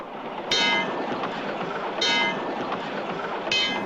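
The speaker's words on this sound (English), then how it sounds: "And riding on subways." A cartoon subway train rattles along with a continuous clattering rumble, broken by three sharp, bright bursts of wheel and rail clatter arriving at regular intervals.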